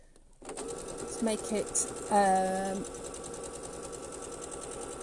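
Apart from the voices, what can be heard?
sewing machine stitching a zipped cushion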